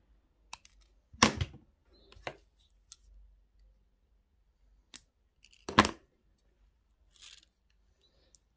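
Wire cutters snip the tail of a wire-wrapped pendant, a few sharp metallic clicks and snips with small handling rustles between, close in an otherwise quiet room.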